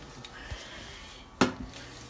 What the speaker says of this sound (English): start chopping this meat up a little bit